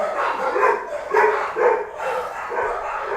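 Several dogs bark in a repeated, somewhat muffled series, coming from a short distance away, with a few yips mixed in.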